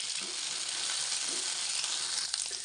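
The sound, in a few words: okra frying in coconut oil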